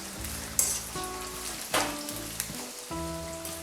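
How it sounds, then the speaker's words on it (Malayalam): Ginger fries in hot oil for a Kerala-style ginger curry, a steady crackling sizzle close by, punctuated by a few sharp stirring knocks over a faint background hum. "അപ്പോൾ നമുക്കിത് എണ്ണയിലേക്ക് ഇട്ട് കൊടുക്കാം. അപ്പോൾ ഇത് നമുക്ക് നന്നായിട്ട് വറുത്തെടുക്കണം."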